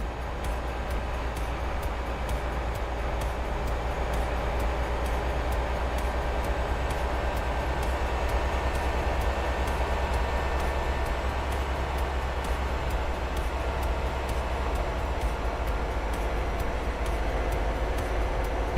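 Steady rumbling of a train running in a train simulator game, heard from the cab. A continuous low drone and rolling noise holds at an even level with no talk.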